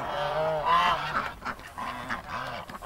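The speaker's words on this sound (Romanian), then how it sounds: "Astea sunt gâște africane" African geese honk repeatedly in a farmyard, several loud nasal calls overlapping in an irregular rhythm against a busy background, fairly close, with no talking.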